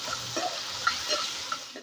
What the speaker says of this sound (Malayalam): ടൊമാറ്റോ നന്നോട്ട് വഴറ്റിയെടുക്കണം